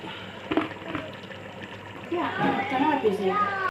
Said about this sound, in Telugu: ఇక ఎసరు పోసేసుకుందాం